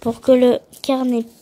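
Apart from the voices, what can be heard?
No distinct noise like a dog, phone or traffic.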